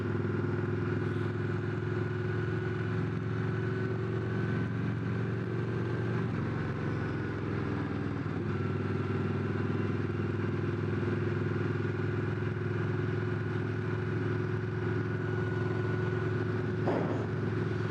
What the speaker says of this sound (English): This is just riding an old school bike. Carbureted, no electrical nannies taking care of you